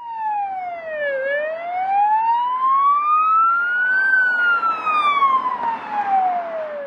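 An emergency vehicle siren wails steadily, its pitch sweeping slowly down, up and down again, loud and continuous over faint road noise.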